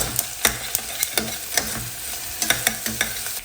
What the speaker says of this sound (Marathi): एक चमचा मी लसूण पेस्ट ॲड केलेली आहे आणि दोन मिनटं छान परतून घ्यायची